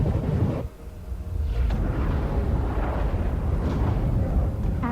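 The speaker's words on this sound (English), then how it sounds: "Commence suborbital saturation bombardment." Suborbital saturation bombardment in a Battletech animated video: a continuous, loud, heavy roar of explosions with rumbling low booms and a brief dip before the blasts swell again.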